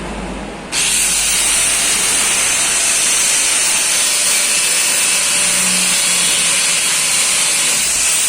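A power tool cuts through the center bolt of a trailer leaf spring. A loud, steady, high-pitched grinding whine starts abruptly after a brief lower hum and holds continuously, close and dominant, with no speech.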